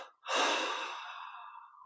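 A single long, breathy exhale through mouth and nose during a guided meditation, starting with a strong airy rush and slowly tapering into a soft, fading breath, close and alone after a brief silence.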